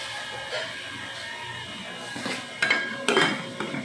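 A cooking pot of sinigang gets its lid put on, producing a few sharp metallic clanks and clinks near the end, with softer kitchen knocks before them.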